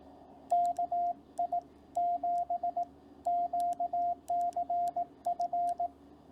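Morse code call sign KI7QCF keyed as a clean steady tone, groups of short dits and longer dahs in an even rhythm with gaps between letters, alone and fairly faint.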